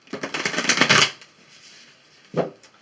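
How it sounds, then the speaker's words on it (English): A tarot deck is riffled in a quick burst of rapid fluttering clicks, then a short second riffle follows after a pause. "I'll shuffle these one time."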